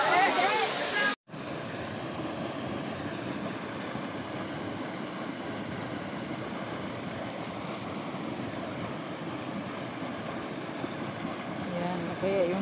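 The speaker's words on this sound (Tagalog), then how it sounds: "Punta po kayo dito sa Daranac Falls." Steady rushing roar of Daranac Falls, a waterfall, constant broadband water noise filling the scene near and loud, briefly cut off once near the start.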